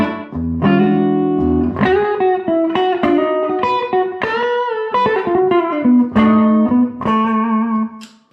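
Electric guitar played through a Louis Electric Buster tweed-style amp with a touch of reverb, ringing chords and picked notes that sustain and overlap steadily and loudly for about eight seconds before fading out.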